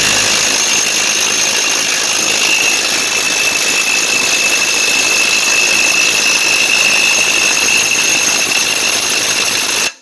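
A cheap Amazon cordless impact wrench hammers at a stuck nut, a loud, continuous buzzing rattle running steadily for the whole stretch with no pauses and no voices.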